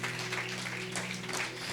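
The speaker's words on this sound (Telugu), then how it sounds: "క్లాప్స్ కొట్టి దేవుని మహిమపడతాం" Soft, continuous applause from a church congregation during a sermon, heard at a distance, with a low steady hum running beneath the clapping.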